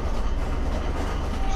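A train rumbles steadily past in a video game, a loud continuous low roll of wheels with faint clickety-clack, close and unbroken.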